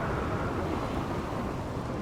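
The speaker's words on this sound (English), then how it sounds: "And we have a thunderstorm." A thunderstorm rumbles in the RimWorld video game, with a steady, dense low roar of thunder and rain that holds at an even level throughout, with no talking.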